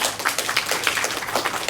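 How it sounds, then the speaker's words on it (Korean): Dense, continuous applause from a seated audience fills the room at an entrepreneurship camp event, many hands clapping at once with no voices over it. "박수 한번 보내주십시오."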